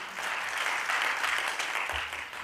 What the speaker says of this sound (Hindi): अगर समर्थन करते हो तो एक बार भरपूर तालियां बजाइए